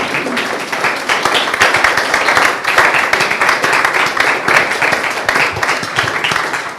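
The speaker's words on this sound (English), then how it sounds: "Now we can applaud." Dense, steady audience applause fills the room at a talk on British politics, many hands clapping at once with a few louder nearby claps, continuing unbroken for about seven seconds.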